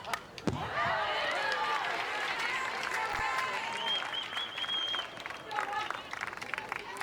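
A crowd at an NCAA softball game between Texas and Stanford breaks into sustained applause and cheering, loud and continuous for several seconds, with a whistle-like tone and a commentator's voice layered over it.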